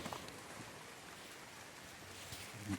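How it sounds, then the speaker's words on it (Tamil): Steady rain falls in a forest during a wildlife trek, a faint even hiss of drops with no voices over it. "மழை வந்துருச்சுங்க திடீர்னு எதிர்பார்க்கவே இல்லை"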